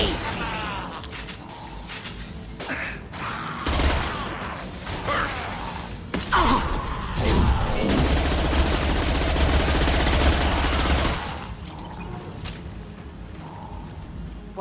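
Weapon fire in the Mass Effect 2 video game, dense bursts of shots and impacts throughout a busy firefight, with rumbling effects and a voice calling out under the noise.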